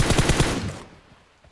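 A rapid burst of automatic gunfire in the video game PUBG Mobile, several quick shots in close succession that fade out into quiet within about a second.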